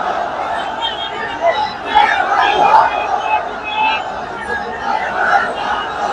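A large crowd at an outdoor Quran tafsir gathering in Pekua, Cox's Bazar, shouts the takbir in unison, a loud massed roar of voices swelling and sustained over several seconds.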